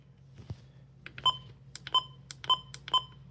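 A series of short electronic beeps from a WR400A weather radio alarm, four clear tones in a quick, slightly uneven rhythm, over a faint low hum with small clicks between them.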